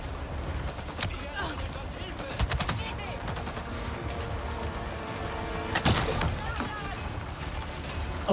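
Gunfire in the Avatar video game: rapid bursts and scattered single shots crackle over a busy battle background, fairly close and loud, with a voice talking over the action.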